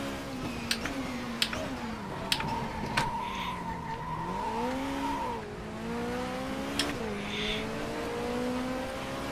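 Race car tires squealing and skidding through oversteer in the Race 07 WTCC 2007 touring car game on the Pau street circuit, a wavering tonal screech over a steady engine drone, with sharp clicks and a voice briefly heard.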